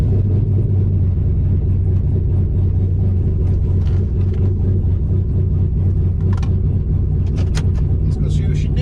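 A boosted 4.8 truck engine rumbles steadily and loudly from inside the cab during a ride, a low constant drone with faint whistling later on.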